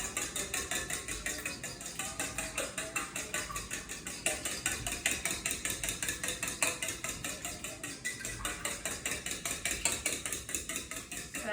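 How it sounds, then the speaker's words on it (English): A fork whisks a raw egg in a bowl for cabbage pancake batter, giving a steady, fast rhythmic tapping and scraping that runs continuously and close by, with no talking. "So you can just use a fork for whisking,"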